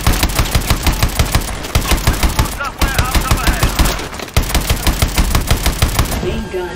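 Sustained bursts of the main gun in Call of Duty: Advanced Warfare during the Atlas prison camp escape: rapid, evenly spaced heavy shots close and loud, with two short pauses before the rhythm resumes.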